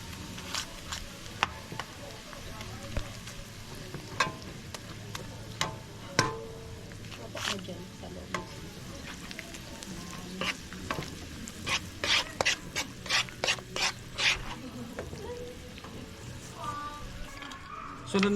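Garlic and butter sizzle and fry in a pan at a backyard cookout, with a steady crackle under repeated stirring and scraping clicks, close to the mic.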